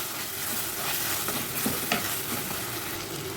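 Potatoes with masala powder are being sautéed in a pan, giving a continuous, close sizzle with stirring scrapes and soft clatter throughout.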